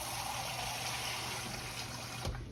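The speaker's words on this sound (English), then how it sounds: "Add a little bit more water to this." Water being added to smothered beef tips made from leftover prime rib as they cook, a steady close pouring and gushing wash that fills the whole moment, with a brief clunk near the end.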